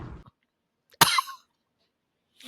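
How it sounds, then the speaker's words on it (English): A single sharp cough bursts out close and loud after a brief vocal sound, followed by silence. "The cough at the end always kills me."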